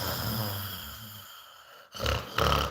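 A man imitates snoring with his voice: a long, rattling inhaled snore that fades, then two louder, harsher snorting breaths close up, with no other sound around them.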